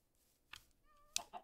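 A cat in the Minecraft video game gives a short, clear meow, a thin tonal cry near the middle, amid faint soft game sounds and a couple of brief clicks.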